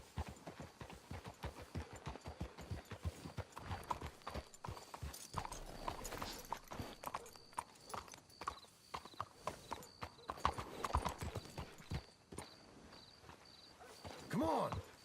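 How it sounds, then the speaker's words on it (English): Horses walking in Red Dead Redemption 2, with a steady clip-clop of hooves throughout, a brief whinny near the end and occasional voices. "Let's hitch the horses up ahead."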